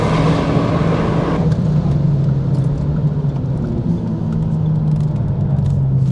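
A Renault Megane 3 RS with Cup chassis and a limited-slip differential, lapping a track: a steady, loud engine drone with a low, even rumble that holds throughout and shifts pitch slightly as the revs change.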